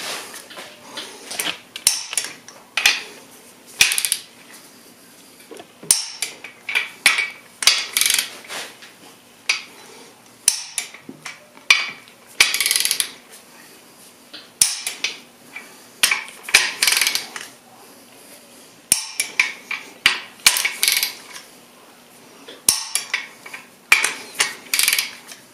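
Torque gun working lug fasteners up to 95, heard as repeated short mechanical ratcheting clicks and clacks in bursts over about twenty-five seconds, close and moderately loud, with no talk.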